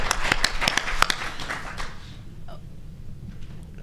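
Audience applause at a climate change discussion panel, a burst of clapping that tapers off after about two seconds, leaving quiet room tone.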